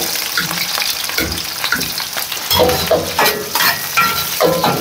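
Onions for kaldereta sauté loudly in a hot pan, a dense close-up sizzle with rhythmic stirring scrapes and bursts of crackle throughout.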